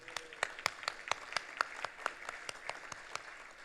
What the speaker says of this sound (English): And may we give her a strong round of applause